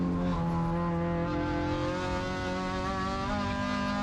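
A car on a race track holds third gear, its engine droning at a steady high pitch with stacked harmonic tones that rise slightly and then settle, loud and continuous with no talk.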